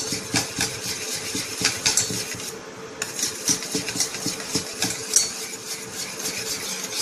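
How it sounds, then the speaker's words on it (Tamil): A spoon repeatedly scrapes and stirs milk thickened with cornflour in a pot, in steady rhythmic strokes with soft clinks against the metal, up close and without any talking. "கார்ன்ஃப்ளவர் போட்டதுக்கு அப்புறம் கைவிடாம நல்லா கலருங்க"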